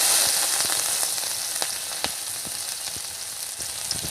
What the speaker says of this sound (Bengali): আমি এখন একটু মাছ যে রেখেছিলাম সেটা এরকম করে আমি দিয়ে দেবো।